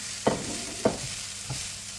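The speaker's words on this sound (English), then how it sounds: "and you get in the red pepper all in and then you stir." Red pepper and broccoli frying in a pan, stirred with three distinct scraping strokes over a steady sizzle, close and fairly loud.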